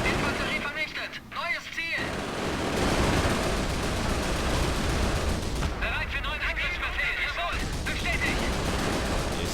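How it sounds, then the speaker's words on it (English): High explosive rounds firing and detonating in the Company of Heroes Blitzkrieg game make dense, continuous booms and rumbling battle noise, loud and close, with distant gunfire mixed in under the din. "I'll keep using the high explosive rounds."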